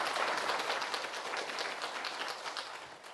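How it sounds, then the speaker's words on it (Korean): An audience claps steadily at a Buddhist charity campaign event, dense and even applause heard from a slight distance that fades a little toward the end. "여러분 박수로 청해 주겠습니다"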